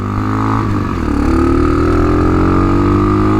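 A Tao Tao TBR7 Hawk Bro dual-sport motorcycle engine runs loud and close, a steady buzzing drone that rises in pitch after about a second and holds there.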